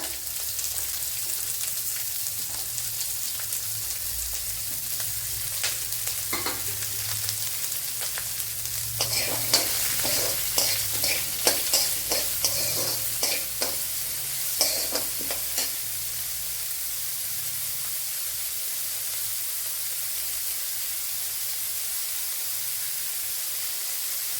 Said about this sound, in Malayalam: ഇതിലേക്ക് ഒരു വലിയൊരു സവാള കൊത്തി അരിഞ്ഞത് ഇട്ടു കൊടുക്കുക